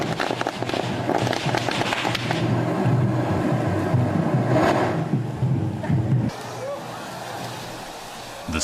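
Hand-held tube fireworks (tezutsu hanabi) at the Mikkabi festival in Japan, a loud continuous roaring, crackling burst of sparks and gunpowder lasting about six seconds before dropping to a lower rumble, with crowd noise around it.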